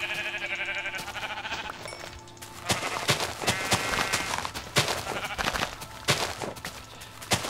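Sheep bleating in the video game Minecraft, several short repeated bleats over a steady background game hum, fairly close and clear with no talking over them.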